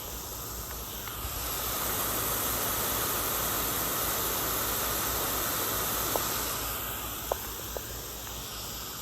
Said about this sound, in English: And then there's a K-Rain Mini Pro rotor right here,